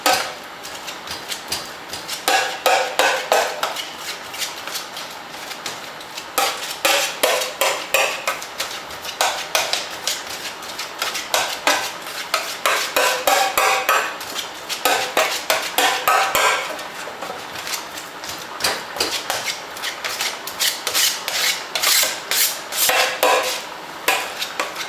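Half a butternut squash being mashed into a puree for risotto, heard as a steady run of loud, close, rhythmic clattering mashing strokes against a pot or bowl that continue throughout, with no talking.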